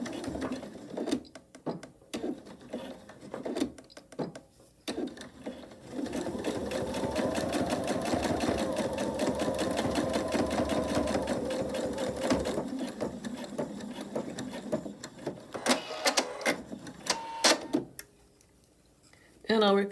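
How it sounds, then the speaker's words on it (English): A sewing machine stitches down a seam on a fabric travel tissue cover. A steady, close mechanical whir runs for several seconds, with scattered clicks and handling noises before and after. "I'll go ahead and stitch down that same seam again."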